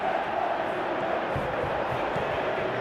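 A stadium crowd roaring in an esports football video game match, a dense sustained wash of cheering that stays loud throughout while a commentator talks over it.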